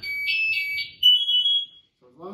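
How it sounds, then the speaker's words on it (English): A firefighter's PASS device on turnout gear sounds its motion alarm, a loud, shrill electronic tone pulsing in three quick beeps and then a sustained rising pitch, with a voice starting afterward. "So if it doesn't move for 30 seconds, it starts beeping."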